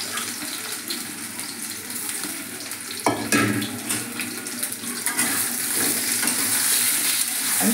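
Pointed gourd (potol) fries in hot mustard oil in a wok, a continuous close sizzle with a sudden louder burst partway through and stirring clatter, while running water hisses in the background.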